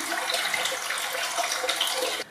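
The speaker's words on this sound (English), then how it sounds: "running some hot water." Hot water runs steadily from a bathroom tap, a constant close rushing splash with no talking.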